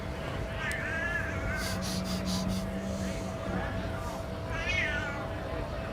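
A cat meows twice, a short rising call early on and another near the end. Both sit over a steady background hum with faint clatter between them.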